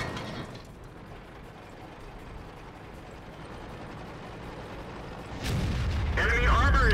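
SU-152 tank destroyer firing its big gun in a tank battle video game: a single heavy boom bursts in near the end, loud and close, with mechanical rattle after it and a voice talking over the game sounds.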